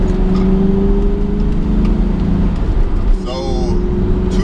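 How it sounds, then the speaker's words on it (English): An SN-95 Ford Mustang GT engine hums steadily at a low pitch, then surges briefly in a short rev near the end, with a whirring tone throughout. "It doesn't rev that high at all. It revs like the 6K"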